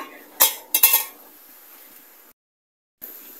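A metal lid is set onto a cooking pot of ginataang mackerel, a sharp clank followed by a couple of quick rattling clinks as it settles, then quiet.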